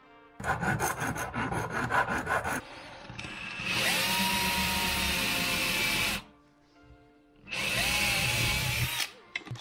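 A power drill in a garage bores screw holes into an aluminium LED strip profile. It makes loud, sustained metallic grinding and whirring in two long bursts separated by a short pause.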